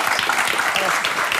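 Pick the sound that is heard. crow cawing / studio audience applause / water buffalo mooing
studio audience applause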